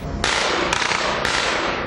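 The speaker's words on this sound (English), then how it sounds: "Gunfire that sources say was also from the fugitive." Sharp cracks of gunfire during a police shootout with a fugitive near a cabin, three loud bursts spaced under a second apart over a rough, noisy background.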